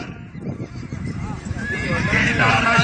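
A horse neighs loudly at a rural horse event in Khushab, a long, rising whinny close by, with crowd noise and talk in the background.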